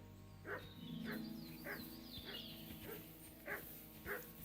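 A dog in Kingdom Come Deliverance 2 gives about six short, evenly spaced barks, fairly quiet, over a low droning game background.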